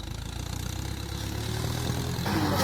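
A red tractor engine drawing closer across a farm field at sowing time, a steady low idling rumble that grows gradually louder and nearer, with no talk.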